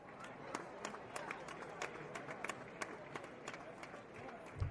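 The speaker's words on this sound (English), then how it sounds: "let's get the crowd noise going" Steady crowd murmur fills a baseball stadium during a Mariners vs Blue Jays game, a constant wash of voices with scattered sharp claps and shouts, and a voice talking over it.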